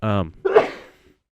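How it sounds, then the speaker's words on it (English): A single sharp sneeze bursts out right after a brief vocal sound, loud and close, then fades quickly into quiet. "So I got a sneeze coming over."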